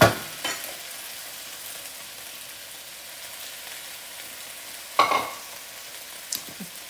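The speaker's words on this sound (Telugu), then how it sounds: "ఈ నూడిల్స్ని నేను ఈ స్టిర్ ఫ్రైలో వేసేసుకుంటున్నాను." Noodles with tofu are tossed in a hot pan for a stir-fry, giving a soft, steady sizzle broken by a few sharp scraping stirs near the start and later on.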